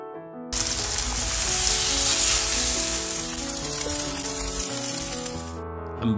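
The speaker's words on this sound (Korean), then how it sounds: "팬에 식용유 2스푼 두르고 먹기 좋은 크기로 반죽을 올려놓고 부칩니다." A loud, steady sizzle rises suddenly as spoonfuls of bean sprout pancake batter go into a frying pan with two spoons of cooking oil, hissing continuously close up before fading out.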